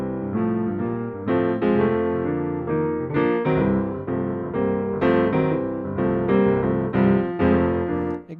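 Jazz piano playing a blues form, rich chords and a bouncing melodic line ringing clearly and alone at steady tempo.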